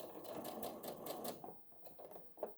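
Sewing machine back stitching at slow speed, a soft rhythmic rattle of needle strokes that slows and ends in a few quiet separate clicks.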